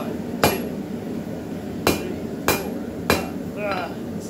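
Four loud, ringing hammer blows strike steel on an anvil while forging a bottle opener, spaced irregularly with short decays and a faint metallic jingle after the last.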